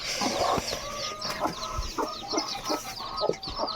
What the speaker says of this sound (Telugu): ఇప్పుడు మళ్ళీ కోళ్ళుని వృద్ధి చేసుకున్నమాట